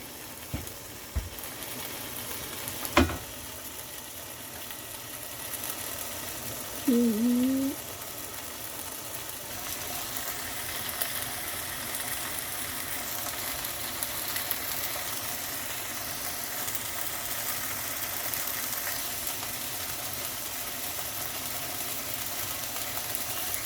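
A £13 camping cooker being fired up with food frying on it. A sharp click and a brief burst come first, then a steady, broad hissing roar builds and continues to the end, with scattered faint crackles.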